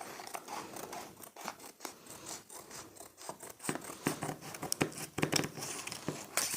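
Scissors cut through a stiff plastic X-ray sheet for book binding, giving a run of sharp, crisp snips and scraping crunches at close range, irregular and repeated throughout.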